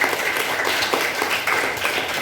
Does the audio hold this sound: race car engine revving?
no